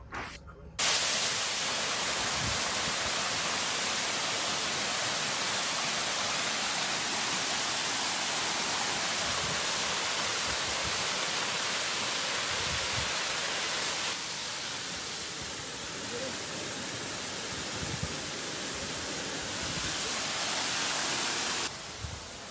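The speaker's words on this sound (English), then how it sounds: "we see the wonderful man-made waterfall here around Castle Hill" A man-made waterfall around Castle Hill in Nice gives a steady, loud rushing roar that fills the whole stretch without pause, with no voices over it.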